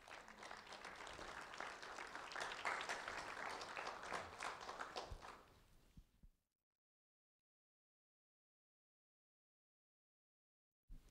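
An audience applauds a second-grade student from Fort Myers who led the Pledge of Allegiance, with steady, full clapping that fades out around six seconds, followed by near silence.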